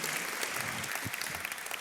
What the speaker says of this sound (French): je pense qu'on peut t'applaudir chaudement